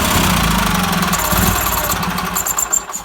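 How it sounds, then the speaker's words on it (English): Roper RT16T clone garden tractor engine on a 1969 Sears machine, running roughly then sputtering with uneven knocks and faltering pulses as it fails to stay running, loud and close, no talk. "It's pulling fuel, it just doesn't want to stay running."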